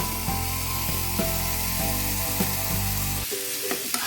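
Cut pumpkin pieces fry in a pan with lightly fried onions for pumpkin soup, giving a steady sizzle with scraping and clinking as they are stirred, close and continuous before a brief quieter stretch at the end.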